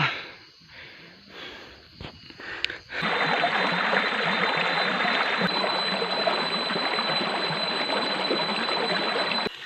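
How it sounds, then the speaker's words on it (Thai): A forest stream flows steadily, a broad continuous rush of water that starts abruptly after a few seconds of breathing and rustling sounds, then holds even and close to the end. "เจอน้ำลำธาร"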